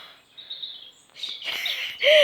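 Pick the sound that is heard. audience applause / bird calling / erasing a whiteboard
bird calling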